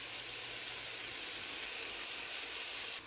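Coconut paste sizzles in a pan with cooked tomatoes for an ash gourd coconut curry, a soft, steady frying hiss that holds even throughout and cuts off abruptly at the end.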